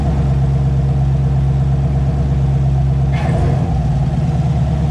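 A 2019 Camaro SS V8 fitted with a Roto-Fab cold air intake and its sound tube deleted idles loudly and steadily, then gives one short throttle blip near the end.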